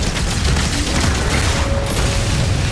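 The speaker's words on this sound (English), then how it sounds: "Hey, guys, there's a big cannon" A big cannon in DOOM: The Dark Ages firing, with dense rumbling booms and mechanical clatter packed into a loud, continuous barrage.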